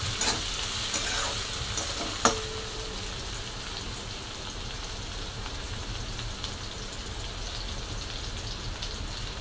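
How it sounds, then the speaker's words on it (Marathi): Onion and tomato frying in a pan while being stirred, a close, steady sizzle with scraping stir sounds and one sharp clack early on. "टमाटर टाकून घेतले आणि छान असं मिक्स करून घेणार"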